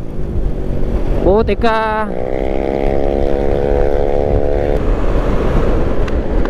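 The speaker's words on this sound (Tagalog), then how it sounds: "May motor sa kaliwa niya." A motorcycle passes on the left on a rough provincial road in Bicol, its engine whine rising and then holding a steady droning tone over heavy wind rumble, with a brief spoken exclamation.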